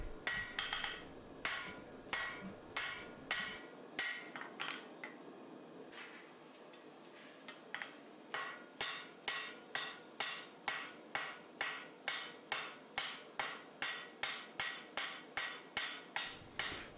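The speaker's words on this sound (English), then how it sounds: "I'm going to bring it right to the edge of the anvil, and I'm going to use light, rapid blows to get it right down to sharp." Light, rapid hammer blows ring out on the edge of an anvil as a hidden-tang knife point is forged down to sharp, a steady, evenly spaced series of sharp metallic strikes after a short pause.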